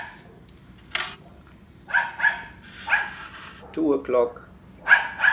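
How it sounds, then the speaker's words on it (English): Several sharp dog barks from a neighbour's dogs ring out at night in short bursts, somewhat distant, with a brief spoken phrase among them. "I usually wake up in the night and the dogs are barking for minutes."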